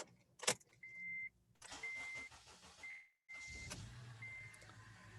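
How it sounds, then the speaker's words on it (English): A car engine cranks and starts after some clicks and a jingle of keys, then settles into a low running idle, close by. "So first, we'll start the engine up."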